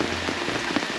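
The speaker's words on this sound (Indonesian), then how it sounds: "Hujan dia." Rain falling steadily on a surface at a farm, a close, continuous patter with scattered heavier drops and no voices.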